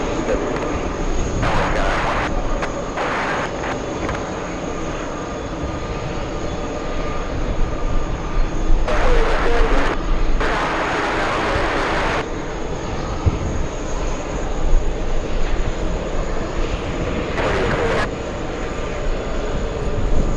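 An Airbus A340 at JFK airport runs its engines in a sustained loud jet roar with a constant high whine, while brief bursts of radio chatter and noise cut in over it.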